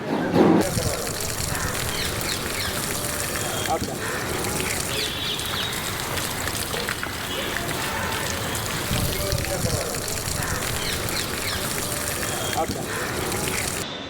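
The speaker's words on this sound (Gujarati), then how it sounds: "ઘોડાને નિયમિત રીતે સેન્ડબાથ આપવામાં આવે છે અને પાણીથી પણ સરસ રીતે એને માલિશ કરીને સ્નાન કરાવવામાં આવે છે" A horse is washed and massaged with water, and running, splashing water gushes steadily throughout with a brief knock near the start.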